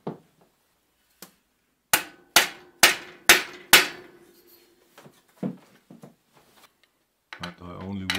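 Five sharp metallic hammer blows in a steady rhythm tapping East German Renak bicycle cranks onto the axle, close and loud, followed by a few lighter taps and some handling clatter before a voice starts talking.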